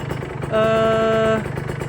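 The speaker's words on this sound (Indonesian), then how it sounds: "Kalau udah 3000 rpm, motornya biarkan idle. Biarkan seperti ini, motornya biarkan hidup ya." A motorcycle engine idles steadily to warm up, a low rumbling pulse running throughout, with a brief sustained tonal whine rising over it for under a second in the middle.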